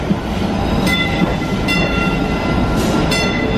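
An MBTA Green Line train rumbles steadily along the rails with a continuous roar and faint rhythmic clacks, loud and close throughout.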